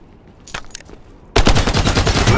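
Gunfire in the video game Lost Light near a villa: a few sharp isolated shots, then a loud, dense burst of rapid automatic fire close by.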